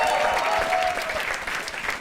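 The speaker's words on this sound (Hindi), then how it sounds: "एक बार जोरदार तालियां for him" A studio audience at a live comedy talent show breaks into steady, dense applause that carries on evenly, loud and continuous, with faint voices mixed in the crowd.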